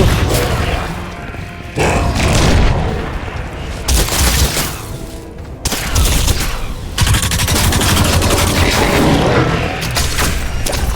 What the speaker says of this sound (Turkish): Başkası da sıkıyor bana.